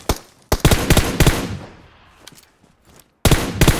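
Bursts of rapid automatic gunfire from the PUBG battle royale game, loud and close, three dense volleys separated by a short lull with fading echo, no talking.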